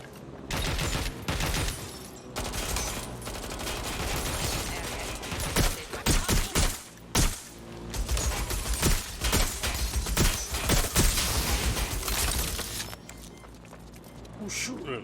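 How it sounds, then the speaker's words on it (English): Bursts of gunfire from a Watch Dogs: Legion firefight crackle in dense, irregular volleys, loud and close, with sharp clustered shots around the middle and a steady din of combat between them. "Who's shooting?"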